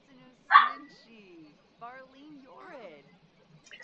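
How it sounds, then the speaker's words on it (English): A playful puppy lets out a few sharp, close yips and whiny, bark-like cries, separated by short quiet gaps. "I've got a puppy who still loves to play."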